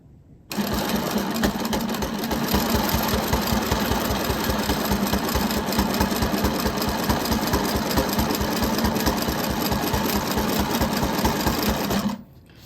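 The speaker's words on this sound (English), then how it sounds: "We're going to quilt around the circle first." A sewing machine runs steadily as it quilts around a circle on a circle-in-square quilt block, a loud continuous motor whir with a rapid even needle chatter that starts abruptly and stops near the end.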